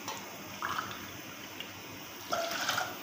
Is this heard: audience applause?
no